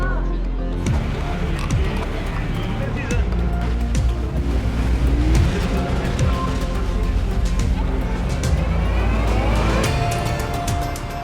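Fun Cup race cars roar past on a circuit at the 25 Hours of Spa, engines droning and whining continuously at close range with steady, dense mechanical noise throughout.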